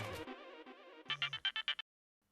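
A phone ringtone plays a short electronic melody and then a burst of five quick, bright chirps before cutting off abruptly into silence.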